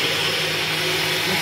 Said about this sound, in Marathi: तेजस, हे वाटण कर